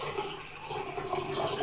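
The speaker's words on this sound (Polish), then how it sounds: "będziemy potrzebowali do tego kubeczka oraz naczynia z wodą i tą wodę będziemy przelewać" Water pours from a small cup into a vessel of water, a continuous close splashing trickle that runs steadily through the short moment with no voices.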